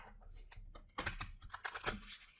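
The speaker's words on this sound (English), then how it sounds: "I'm gonna shuffle one more time." Quick rustling shuffles of stiff oracle cards, several bursts of riffling and slapping close by, with quieter handling sounds between them.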